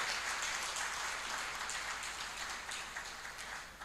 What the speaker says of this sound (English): I think you need to clap